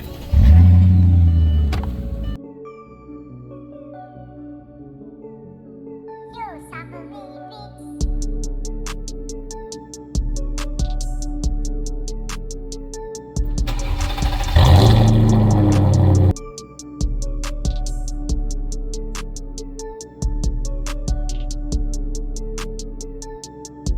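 A Mercedes CL is started and moved in a garage toward a parked S-Class, its engine idling with a steady low rumble, briefly revving louder midway, with a faint ticking from the car throughout.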